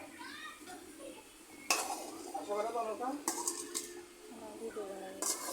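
Hog plum pickle being stirred in a pan after turmeric is added, with sharp metallic clinks and scrapes of a spoon against the pan at close range, interrupted by quieter stretches of soft mixing.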